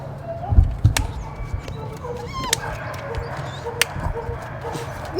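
Dogs at an animal shelter barking and yipping in scattered bursts, some whimpering mixed in, moderately near with a busy kennel din underneath.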